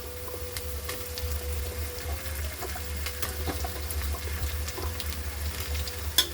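Potatoes are sautéed in a pan with softened onion for khichadi, a steady close sizzle with light stirring scrapes and small clicks throughout, and no voices.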